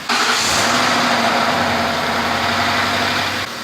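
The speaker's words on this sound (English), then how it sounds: "That is the timing chain." A Ford Crown Victoria V8 idles close up with a steady, loud mechanical drone and a light metallic timing-chain rattle running through it, with no voices.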